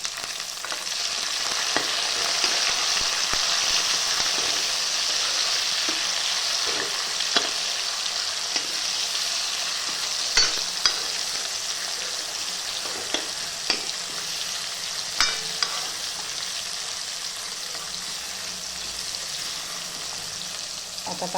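Tomatoes sizzle and crackle steadily in hot oil with curry leaves for dal (varan phal), with occasional sharp pops and stirring clinks over a continuous frying hiss, no voices.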